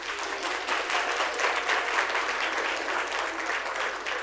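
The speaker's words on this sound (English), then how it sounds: "Clap, clap, clap." An audience applauds a high school football team that advanced in the 6A playoffs, a steady, even wash of clapping from a crowd in an indoor meeting room, sustained throughout without a break.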